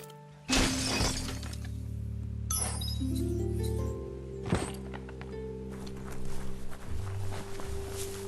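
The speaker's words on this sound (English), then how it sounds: "You shouldn't worry about smashing up the box" A wooden box smashed apart in the action game Biomutant, one sharp shattering crash followed by clinks and thuds of falling debris, with another impact midway, over a droning game soundtrack.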